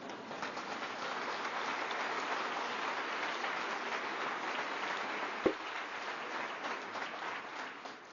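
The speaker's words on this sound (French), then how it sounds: "Vous avez le droit d'applaudir ça" Audience applause rises during a political speech by François Bayrou, a sustained, fairly distant wash of clapping with one sharp thump partway through.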